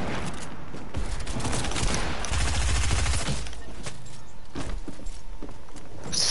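Video game gunfire rattles off in rapid bursts at close range, loud and dense, then thins into scattered shots and clatter with no voices.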